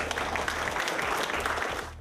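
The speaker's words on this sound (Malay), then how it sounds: "beri tepukan yang gemuruh untuk diri" An audience at a finalist announcement during a dinner gala breaks into steady, moderately loud applause, a brief burst of many hands clapping together.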